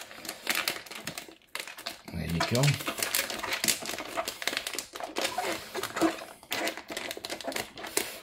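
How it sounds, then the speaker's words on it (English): Dry grain for mushroom growing rattles and rustles as it is shaken and shuffled down to the bottom of a bag, a steady crinkly patter with a short spoken remark over it. "I do like to give it a bit of a shuffle down to the bottom."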